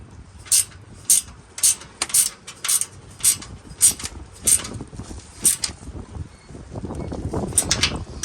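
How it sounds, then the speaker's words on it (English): A ratchet wrench tightens bolts while a Char-Griller Grand Champ XD offset smoker is being assembled. It gives a steady run of about nine crisp, evenly spaced clicks, then a denser, faster clatter of ratcheting at the end. "Or you can use a ratchet."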